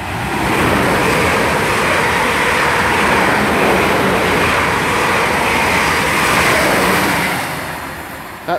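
A Class 444 electric multiple unit on the 17:00 London Waterloo to Weymouth service roars through Beaulieu Road station at speed, a loud, steady rush of wheels and air that holds for several seconds before easing away.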